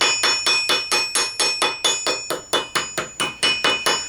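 A hammer taps a steel gauntlet finger plate over a ball stake while a Gothic gauntlet is being made, about sixteen sharp metallic strikes in a steady, even rhythm, close and clear with a ringing tone.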